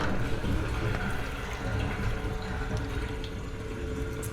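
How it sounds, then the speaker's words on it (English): Water splashing and dribbling as wet denim fabric is squeezed by hand against a sink during a pre-wash, a steady close wash of liquid noise throughout with no talk. "I'm literally just squeezing it back against the sink, letting the bulk of the water come out"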